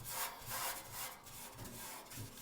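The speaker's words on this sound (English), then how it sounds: "there's a little bit of more sanding that needs to be done" Hand sanding on a metal part of a 1940s Preway stove, a steady close scrubbing rasp in repeated back-and-forth strokes with no talk.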